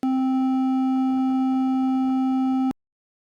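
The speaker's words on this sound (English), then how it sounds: "One produces a low-pitch sound" A steady, low-pitched electronic buzzer tone from a buzzer in a circuit holds for under three seconds, then cuts off abruptly into silence.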